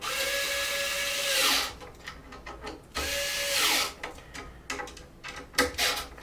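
Small power screwdriver whirring in two short bursts, then quicker brief pulses, as it tightens nuts on laser-cut clipless body mounts for an FMS Bronco RC car, close and fairly quiet.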